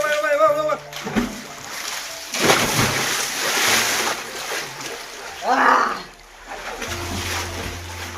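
People jump into clear water in a village near Alibag, making several splashes of varying size. Splashing and sloshing come and go amid outdoor ambience, with faint voices in the background.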